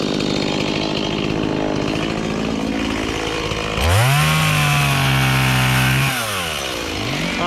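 A chainsaw cuts up a felled tree in a wooded front yard, its engine droning loudly and then surging to a high revving whine as it bites through the log, up close with no talking.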